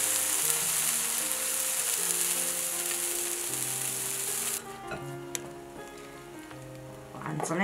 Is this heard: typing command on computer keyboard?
no